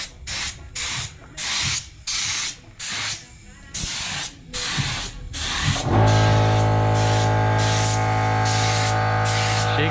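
Short hissing bursts of a spray gun lay candy red paint on a 2020 ML motorcycle, about eight rhythmic blasts close by, then a steady humming drone with continuous spray takes over.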